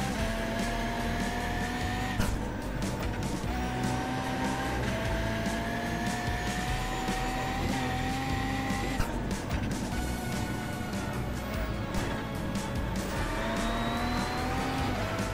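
A race car engine in the iRacing video game, a loud continuous whine that climbs steadily in pitch and drops sharply at each gear shift, repeating through several shifts with faint tire noise and no talking.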